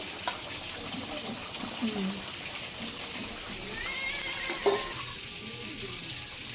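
Fried potatoes dropped into a pan of simmering desi chicken curry give a steady, moderate sizzle with a few clatters of stirring, close by, with faint voices at times.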